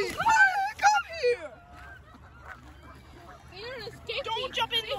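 Several geese honk loudly close by in bursts, then quieter stretches, with more honking calls returning near the end.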